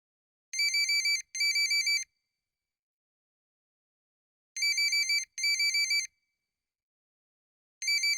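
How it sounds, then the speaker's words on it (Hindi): A mobile phone rings at midnight, its bright electronic ringtone sounding in short two-part bursts separated by long silent gaps, clear and close with no voices. "मेरा बजा बाजार मोबाइल आधी रात को"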